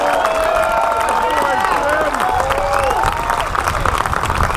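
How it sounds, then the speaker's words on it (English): Rally crowd at an event to impeach Judge Feeley applauding and cheering loudly and steadily for a state representative, dense clapping mixed with shouts and voices throughout. "Let's give him a room of applause."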